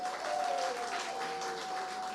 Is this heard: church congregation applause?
yes